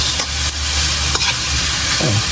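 Bitter gourd and egg frying in a pan, a steady sizzle running throughout with a few sharp clicks and scrapes of stirring and a brief low sliding sound near the end.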